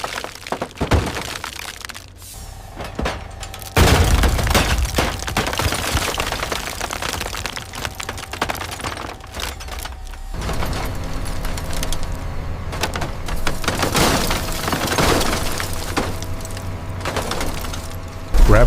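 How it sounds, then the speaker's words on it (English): Hydraulic machinery tears apart the reinforced aluminum skin of a retired jet at a recycling yard, producing loud sustained crunching and cracking with bursts of snapping metal, briefly quieter early on before a heavy, dense tearing stretch. "Hydraulic force tears through the reinforced skin, destroying the giant's structural integrity."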